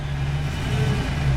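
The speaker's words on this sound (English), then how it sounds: "So I've got the heater cranked here, so sorry for the noise" The heater fan of a 1986 Ford Mustang GT blowing at full, a steady broad rushing whoosh with a low droning hum underneath, constant and fairly loud inside the cabin, no talk.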